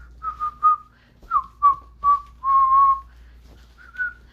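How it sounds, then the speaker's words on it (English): A person whistles a cheerful tune alone, a string of short bright notes followed by a longer held phrase and a final brief trill, close and clear against a quiet background. "like he's whistling a happy tune"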